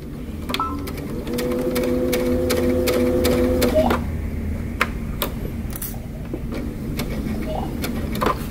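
A sewing machine stitches a seam on a tee shirt or vest in a steady mechanical whir for about three seconds, then stops, leaving scattered light clicks and handling taps.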